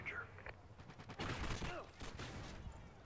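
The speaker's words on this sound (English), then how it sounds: "I hear shots around me" Gunfire in a sniper shooter video game, a burst of several overlapping shots crackling at moderate distance, with faint game sounds and brief talk around them.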